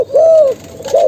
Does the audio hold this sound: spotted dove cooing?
yes